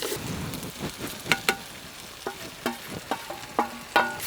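Bitter gourd pieces fry in a pan with a light, steady sizzle, punctuated by rhythmic metallic clinks and scrapes of a stirring spoon growing more frequent toward the end.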